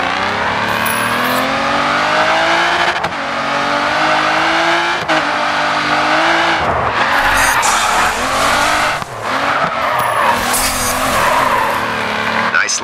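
Race cars drifting in the video game GRID 2 with a loud, continuous engine roar and long tire squeals that bend in pitch as the cars slide sideways, while an announcer-like voice talks over it.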